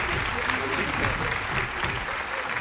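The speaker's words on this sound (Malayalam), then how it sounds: "കയ്യടി മക്കളെ" Studio audience applause on a Malayalam television homemaker show, a steady, dense wash of clapping that fills the whole stretch at even loudness with little variation.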